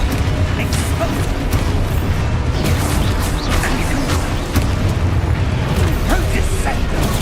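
Spell blasts and explosions from the video game Hogwarts Legacy form a loud dense barrage of booms, bursts and magical whooshes, continuous and close, with a voice shouting over the action.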